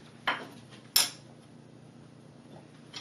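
Two sharp clinks of a utensil striking a mixing bowl while apple crisp ingredients are stirred together, each a quick metallic tap, followed by quiet faint scraping.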